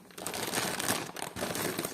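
Close, crisp crinkling of a large plastic parcel of vintage jewelry in two bursts with a short pause between, rustling and crackling as it is handled open.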